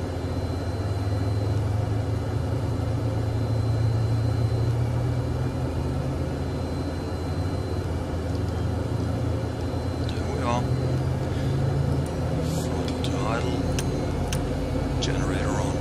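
Learjet 35A jet engine spooling up during a startup sequence in the Prepar3D flight simulator, a steady loud low whine and rumble holding throughout, with a voice talking over it.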